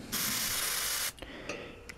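A scale-model airbrush sprays a steady, loud hiss from its bottom nozzle for about a second, then cuts off, leaving a few small clicks and faint mechanical taps.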